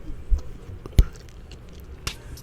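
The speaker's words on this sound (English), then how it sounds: "I'm really smacking this gum" Gum is chewed with wet smacking, a few sharp close clicks and squishes at irregular intervals over a quiet background.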